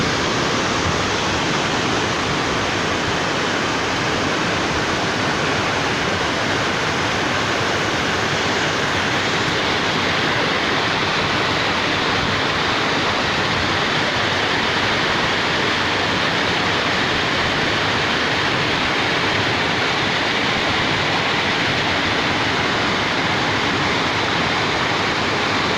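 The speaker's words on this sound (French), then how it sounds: "et la cascade vue de face." Waterfall in the Cirque de Saint-Même in the Chartreuse massif, a steady, loud, broadband roar of falling water that holds unbroken and close for the whole stretch, with no voices.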